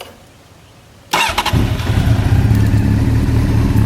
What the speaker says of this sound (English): And so I'll start it up now.